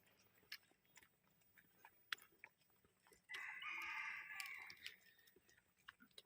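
A rooster crows once at moderate distance at a Buddhist cave temple in Khon Kaen, Thailand, a bright sustained call lasting about a second amid faint outdoor background noise and scattered clicks.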